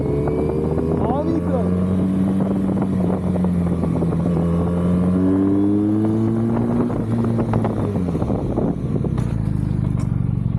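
A Benelli TNT 250 motorcycle engine revs up with rising and falling tones, loud and close, over steady rumbling road noise.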